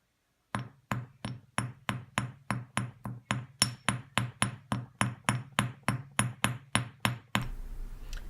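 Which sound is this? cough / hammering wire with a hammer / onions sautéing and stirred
hammering wire with a hammer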